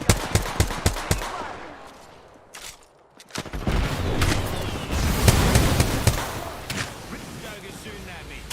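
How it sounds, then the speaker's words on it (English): Video game gunfire crackles in rapid bursts, sharp close shots at first, then a lull before a loud sustained barrage with dense automatic fire and ambient rumble. "Joker's shooting at me."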